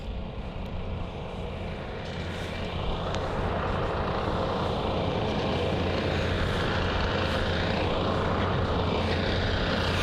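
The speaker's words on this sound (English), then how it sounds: "the Ryanair 737-800's there, you can see it's starting its engine now" A Ryanair Boeing 737-800 at Bristol Airport spools up its engine, a steady broadband roar and whine that builds slightly and holds loud and constant throughout.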